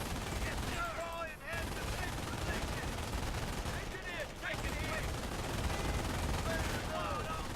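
Machine gun fire in the World War II strategy game Company of Heroes rattles in dense, continuous bursts that are faint in level, with battle noise and whistling shells layered throughout.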